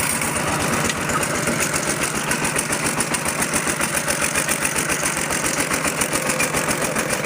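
A tractor engine idles steadily nearby, its low, rhythmic chugging throbbing continuously with no voices over it.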